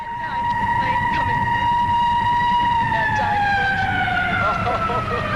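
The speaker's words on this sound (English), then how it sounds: "Must be an air raid siren here with all the helicopters flying around." A wailing siren in a movie scene, its long tone sliding slowly downward and holding loud and steady throughout, with a rumbling, busy background underneath.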